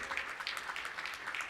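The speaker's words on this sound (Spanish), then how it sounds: "Dale un aplauso al Señor." A church congregation applauds in a faint, distant, even patter of many hands that carries on briefly and steadily, with no voice over it.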